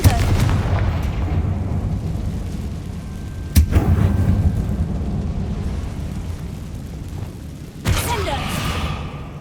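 A fire spell explodes in the video game Hogwarts Legacy inside a closed mine, with loud booming blasts over a constant rumbling bed, one sharp hit midway and another near the end.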